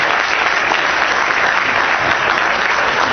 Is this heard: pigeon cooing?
no